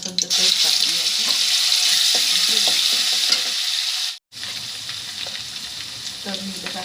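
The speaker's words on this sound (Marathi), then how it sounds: "थोडंसं आलं लसूणचं पेस्ट टाकून घ्यायचं." Ginger garlic paste sizzles loudly in a frying pan, a dense continuous hiss with stirring scrapes, briefly cutting out for a moment before resuming.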